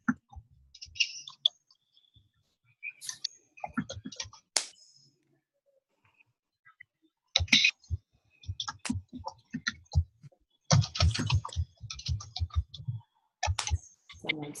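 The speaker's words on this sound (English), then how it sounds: "Someone's typing." Scattered clicks of typing on a computer keyboard during an online live training call, coming in short irregular bursts with pauses between, fairly close and faint.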